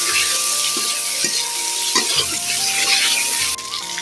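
Chopped onions, bay leaf and salt fry in a hot pan, making a loud, steady sizzle broken by stirring scrapes and clatter, with no talking.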